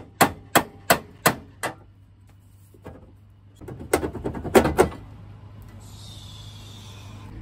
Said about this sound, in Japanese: このボルトをちょっと叩いて、ハンマーで叩いて、そんでちょっとこう取りたいと思います